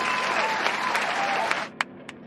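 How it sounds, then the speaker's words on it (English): An applause sound effect plays, dense clapping that runs for about a second and a half and then cuts off abruptly, followed by two isolated claps. "I'm gonna unmute the sound effects button so you guys can hear this. Round of applause"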